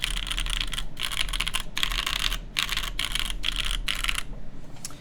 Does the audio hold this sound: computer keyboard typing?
yes